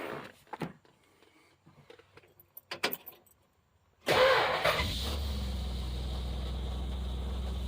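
Keys jingle faintly, then a 1964 Plymouth wagon's 440 engine cranks and roars to life loudly for the first time, settling into a steady, smooth rumbling run.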